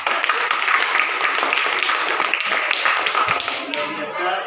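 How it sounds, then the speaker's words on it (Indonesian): A grade 4 class of pupils claps together for a classmate: dense, even, close-up clapping that runs the whole length, with a faint murmur of voices underneath. "tepuk tangan dulu untuk si Amel"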